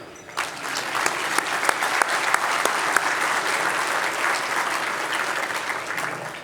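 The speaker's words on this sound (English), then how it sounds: "Now you can clap for everybody." A crowd at a county government State of the County event claps steadily and warmly, a sustained round of applause that starts suddenly and holds at an even level throughout.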